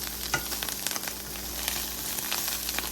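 Broccoli mac and cheese sizzling in butter in a pan on a stovetop burner, with bits on the bottom starting to burn; a continuous crackling fry with frequent sharp pops and stirring scrapes, close and steady, no voices.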